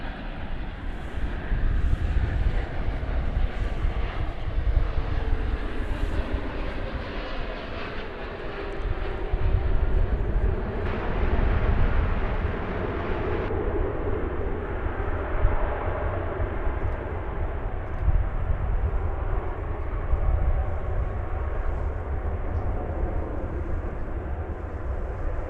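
An American Airlines jet taking off from DFW Airport, its engines a broad, steady roar that stays loud and sustained throughout with no voices over it.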